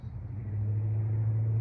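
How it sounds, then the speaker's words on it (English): A truck engine with Jones mufflers on long tube headers rumbles at a steady idle, a deep, loud, continuous low throb heard up close with no one talking. "Man, that truck sounds good. That's them Jones mufflers on them long tube headers"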